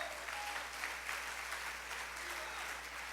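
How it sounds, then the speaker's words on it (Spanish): A church congregation claps steadily together, a dense continuous wash of hand claps at moderate volume, with no voices standing out. "Dale ese aplauso a la gloria del Señor esta noche."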